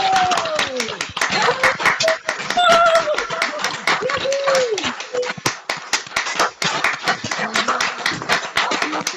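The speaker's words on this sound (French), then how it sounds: "On va pouvoir les applaudir, OK? Applaudir." An audience at a choir event claps in a steady, crisp, fairly regular rhythm, close and loud, while voices talk, call out and laugh over the clapping throughout.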